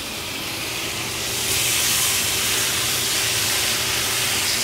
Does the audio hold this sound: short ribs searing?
yes